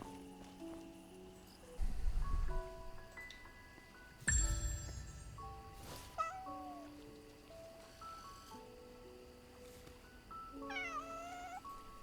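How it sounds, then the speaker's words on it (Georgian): A cat in the video game Where Winds Meet meows several times, close and clear, with two short bursts of louder rustling noise between calls and faint ambient game sound underneath. "კატას მოვაფერეთ."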